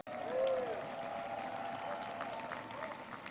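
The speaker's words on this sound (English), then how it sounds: "Give her a round of applause." An audience applauds at a speech by President Joe Biden, a burst of clapping and crowd noise that swells at the start and then holds steady and moderately loud for a few seconds.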